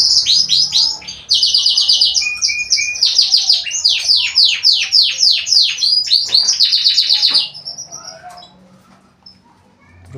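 A male canary sings a loud, continuous warbling song of rapid trills and repeated chirps close by, pausing near the end, during courtship pairing with a hen for breeding.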